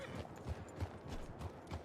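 Horse hooves clip-clopping in the Red Dead (Wild RP) video game, a quiet, steady rhythm of soft hoof thuds over a faint background bed.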